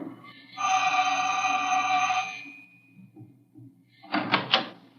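A door opening in a radio drama: a sustained ringing buzzer-like tone for about two seconds, then a few sharp clattering knocks of the door, close and clear with no talk.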